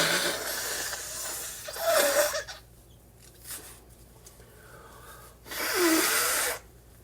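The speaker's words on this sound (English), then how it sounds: "I need to blow my nose." Two loud, rough bursts of nose blowing, with quieter snuffling in between, close to the microphone and with no talking.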